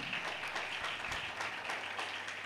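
A church congregation at a revival meeting claps their hands together in a sustained, dense round of applause, steady and moderately quiet, heard from a distance.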